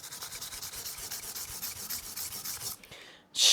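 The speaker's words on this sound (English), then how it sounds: "And I'm going to sand these." Soft guitar fret wire is rubbed with 320 grit sandpaper in quick back-and-forth strokes, a close, rhythmic scratchy rasp that pauses briefly before a final louder scrape.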